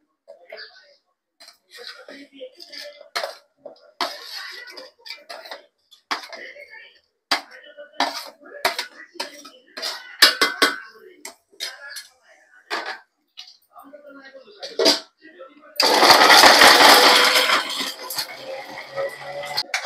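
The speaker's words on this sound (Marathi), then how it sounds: "हे तिन्ही एकत्र करून आपल्याला मिक्सरच्या भांड्यामध्ये वाटून घ्यायचं आहे आपल्याला" A mixer grinder whirs loudly for about four seconds as it grinds roasted onion, coconut and whole spices for a mutton curry, after a stretch of scattered clinks and clatter as the spices go into the jar.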